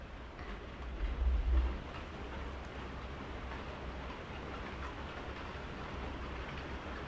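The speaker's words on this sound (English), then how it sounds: "And there's rain." Rain in the video game Arise: A Simple Story, a faint steady hiss of falling rain with a brief low rumble early on, no talk over it.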